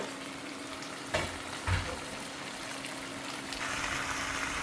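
Tamarind potato curry bubbles and sizzles softly and steadily in a pot, with a couple of brief clinks and stirring noises.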